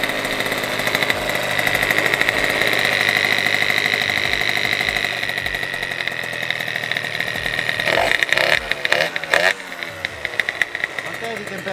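A restored Piaggio Zip SP scooter runs at a steady buzzing idle after a kick start, loud and close. A voice talks over it, and the engine revs briefly near the end.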